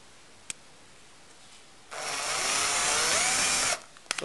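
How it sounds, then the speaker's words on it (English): A power screwdriver drives a screw into drywall in one steady whirring run of about two seconds, close and loud, with a small click before it and a few light knocks after. "So I'll put the screwdriver. Now put the screw through."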